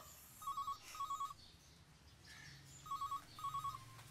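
A telephone rings indoors in a domestic drama scene, two short double-burst rings repeated twice, moderately loud and clear with no talk over them.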